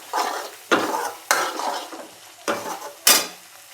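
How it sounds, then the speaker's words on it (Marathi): Masala for chickpea curry frying in a pan while being stirred, five sharp scraping strokes each followed by a fading sizzle, close and steady. "मसाला छान फ्राय करायचा आहे."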